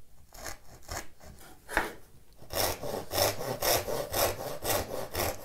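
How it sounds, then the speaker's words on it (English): A handsaw cuts into a mahogany board, starting with a few light, hesitant strokes and then settling into a quick, even rhythm of loud rasping back-and-forth strokes. "I'm just going to cut this one like that. That way I don't have a saw kerf coming down the front face."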